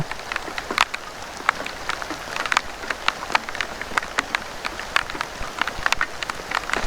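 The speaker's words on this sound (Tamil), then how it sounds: "கேட்குதுங்களா அந்த மழை சவுண்டு சொட்டு சொட்டாக விழுகிறது?" Scattered drops falling irregularly, sharp little taps and splashes over a soft background hiss, like rain dripping onto a surface nearby during heavy rain at Kallar.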